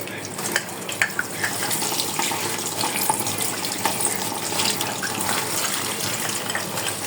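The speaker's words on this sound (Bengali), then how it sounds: "আমি এখন এখানে একটু মাছ ভিজিয়ে নিচ্ছি" A tap runs steadily into a sink while fish soaks, a close, continuous rushing splash that keeps an even level with small spatters and no voices.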